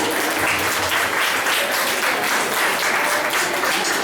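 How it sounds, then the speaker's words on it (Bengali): An audience at an art centre event in Sodepur, India, applauds steadily, a dense wash of clapping hands that continues throughout. "একটু জোরে করতালি দিতে অনুরোধ জানাবো।"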